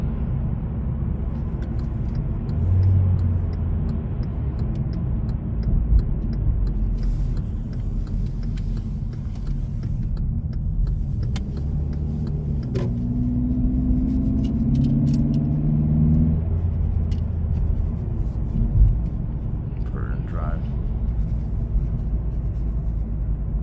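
A 2018 Hyundai Elantra with the 2.0 engine drives along, its steady low induction drone and road rumble continuous and close, with a brief rising tone midway through.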